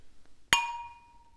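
Glasses of beer, a chocolate cherry bourbon barrel sour, clink once in a toast, a single sharp ringing chime that decays over about a second in a quiet room.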